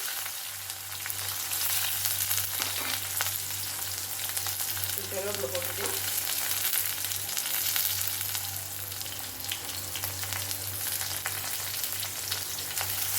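Sliced large onions frying in a pan for a cauliflower dish, giving a steady, even sizzle that carries on without a break over a low electrical hum.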